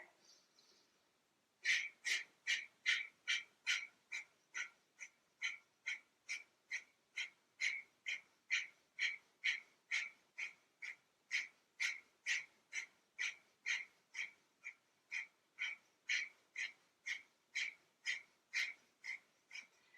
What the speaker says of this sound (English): When you're ready, breath of fire.